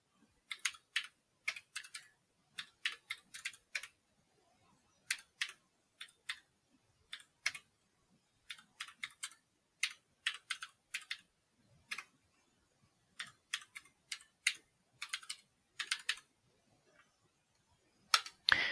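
Fingers type on a computer keyboard at a terminal, quick close clusters of crisp key clicks separated by short pauses, faint against an otherwise silent room with no speech.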